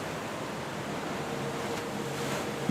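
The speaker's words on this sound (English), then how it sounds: "Waves on rocks." Waves breaking on nearby rocks along a beach, a steady broadband wash of surf that swells slightly toward the end, heard alone with no talking.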